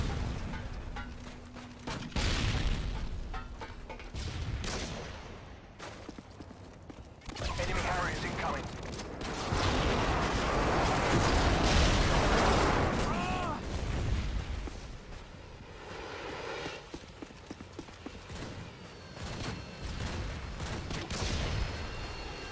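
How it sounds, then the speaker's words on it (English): Predator missile strikes in Call of Duty MW2 boom as loud blasts and rumbling explosions, mixed with scattered gunfire and game chatter, swelling and fading in waves. "Friendly Predator missile inbound."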